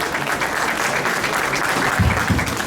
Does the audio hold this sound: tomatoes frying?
no